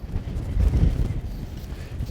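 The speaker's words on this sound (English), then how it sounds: "On a rather windy Greenfield High School athletic field." Gusty wind buffets a microphone on an outdoor high school soccer field, low rumbling swells that peak in the middle and then ease, with no voices.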